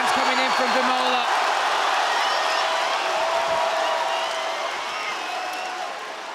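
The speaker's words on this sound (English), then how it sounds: "That's the first big slam, and listen to the response from the crowd." A dense arena crowd at an OKTAGON 43 MMA fight roars loudly after a big slam, a sustained wall of cheering that slowly eases off toward the end.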